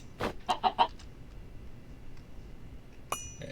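Chickens in Minecraft, with a quick series of three or four close clucks followed by quiet and one more short cluck near the end, no talk.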